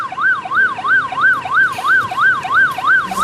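An ambulance siren wails at a toll road accident scene, loud and close, sweeping up and down in a fast, regular yelp of about ten cycles with faint traffic underneath.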